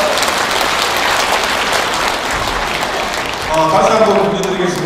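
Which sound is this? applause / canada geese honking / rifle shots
applause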